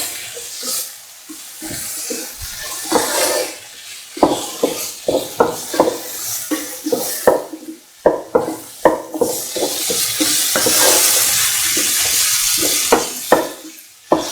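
Tomato pieces are stirred into a sizzling cottage cheese and capsicum stew, with a spoon clinking and scraping the pan in irregular taps over a steady frying hiss, close and clear.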